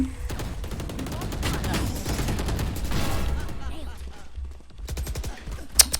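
Phantom rifle fire from Valorant, rapid bursts of shots that ring out and then stop, followed by a sharp kill chime near the end.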